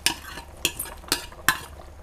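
A spoon stirs rice porridge with shallots and green onions in a pot, making four quick wet scraping strokes about half a second apart, close and clear with nothing else heard.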